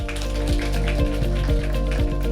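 An audience gives dense, sustained applause after a lecture on strategic CSR and adaptive partnership at a Korean business academic society event, a steady wash of clapping filling the hall.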